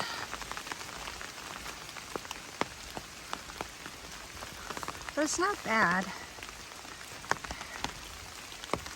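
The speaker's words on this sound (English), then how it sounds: "Still raining." Steady, cool rain patters on a surface with scattered drips on the Appalachian Trail, and a brief spoken remark rises over it near the middle.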